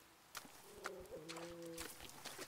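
A dinosaur in Der Unbekannte Krieg, an indie horror video game, lets out faint, low, drawn-out cooing calls in a wavering pattern, heard from a distance over quiet game ambience with occasional soft footsteps.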